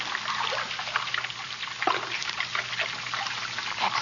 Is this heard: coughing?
no